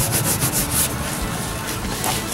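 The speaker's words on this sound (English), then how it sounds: "I'm going to show you how we can clean this up spick and span with the Grease Beast." A scrub pad rubs back and forth over a grill caked with baked-on, burnt grease, making a close, loud, rhythmic abrasive scraping in short strokes.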